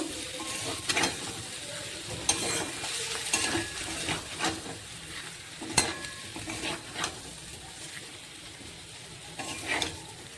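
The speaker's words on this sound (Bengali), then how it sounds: "আবারও আমি মশলা দিয়ে একটু কষিয়ে নেব" Vegetarian gathi kochu (taro) is fried with spices in a pan, a soft steady sizzle broken by repeated scraping stirs of a spoon against the pan.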